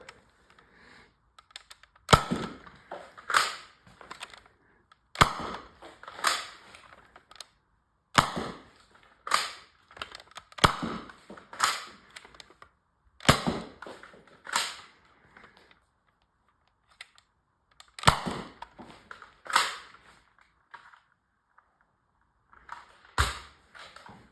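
An X-Shot Reflex 6 toy blaster loaded with modded darts fires about a dozen sharp, snappy shots in irregular bursts, each a crisp pop with a brief mechanical clack, separated by quiet pauses.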